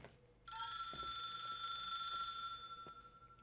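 A telephone rings inside a hotel in the video game The Suicide of Rachel Foster: one sustained, steady bell-like ring that starts abruptly, holds for about two seconds and fades, fairly quiet with no talking.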